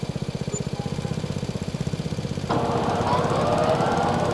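Farming Simulator 22 mower running steadily with a pulsing, chopping engine rhythm, then a sudden louder, broader roar as it kicks in partway through, close and continuous with no talk.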